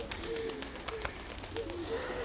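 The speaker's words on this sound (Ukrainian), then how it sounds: "Сідають уже голуби." Soft cooing of pigeons with a few flutters and light movement, set against a steady outdoor background hum.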